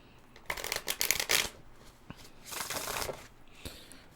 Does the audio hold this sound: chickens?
no